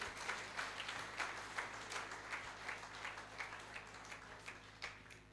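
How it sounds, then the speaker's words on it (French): A church congregation applauding, with steady, fairly faint clapping from many hands that continues throughout. "acclamons très très fort le Tout-Puissant"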